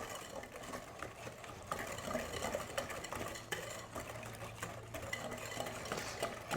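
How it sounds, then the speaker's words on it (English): A hand whisk beats marmalade cake batter in a bowl, giving a steady, continuous scraping and stirring rattle at close range with no talking, under a low background hum. "first I'm going to whisk this. Just beat this all together."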